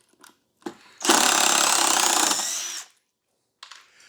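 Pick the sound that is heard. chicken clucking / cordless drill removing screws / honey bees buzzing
cordless drill removing screws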